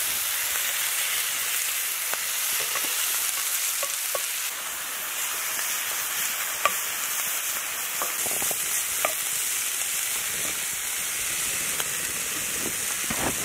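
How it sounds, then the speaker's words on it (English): Meat and onions cook in a pan over a rocket stove outdoors, producing a steady, moderately loud sizzle and crackle with occasional stirring scrapes and no speech. "it's about at the point where I'm going to add our onions to the pan as well"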